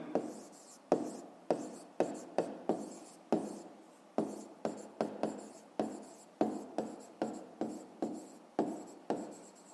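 Handwriting on paper during a 5th-grade math exercise on rounding: a long run of quick, close pen strokes and taps in uneven bursts, quiet and steady, with no speech.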